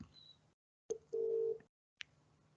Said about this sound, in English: I'm going to let it ring 3 times, and then I'm going to hang up.